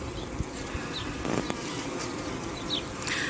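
Honey bees buzz around an open hive during a colony inspection, a steady close hum with individual bees droning past, no talking.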